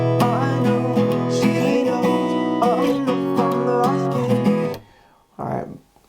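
An acoustic guitar strums the rhythm of a song in a steady, quick pattern of ringing chords, heard close and alone, before it stops abruptly and a short burst of noise follows.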